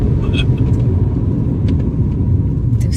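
A car rolls along a road with a steady, close low rumble of engine and tyres, continuous throughout with no talk over it.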